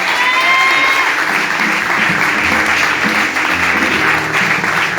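A church congregation applauds steadily and loudly, dense clapping filling the space with a few faint shouts rising over it throughout.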